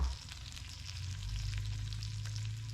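Bacon frying and rendering its fat in a pan, a steady crackling sizzle with a low hum beneath, close and even throughout, with no voices.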